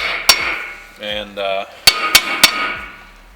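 Hammer strikes knocking a tight hub-centric wheel hub adapter off a 2000 Ford F-350 4x4 dually, several sharp metallic clangs spaced apart, with a brief spoken word in between.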